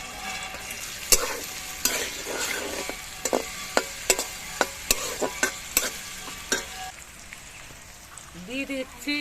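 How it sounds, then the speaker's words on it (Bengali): Carrots frying in white oil already used for potatoes hiss steadily, punctuated by a series of crisp utensil clacks against the pan, with a faint voice briefly at the end. "এইগুলো এখন আমি এই সাদা তেলে ভেজে নেব।"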